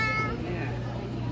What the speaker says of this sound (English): There's a little cat there.